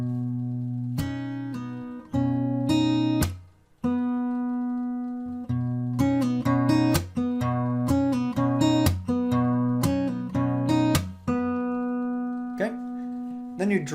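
An acoustic guitar slowly plays a bar of a song, sounding sustained plucked notes with sharp percussive slaps and muted hits in a steady, unhurried rhythm, with no talking over it.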